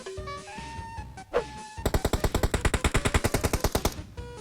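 A rapid burst of automatic gunfire rings out in the mobile shooter PUBG Mobile, loud and close, with about two dozen evenly spaced shots after a short stretch of in-game tones and a brief swoosh.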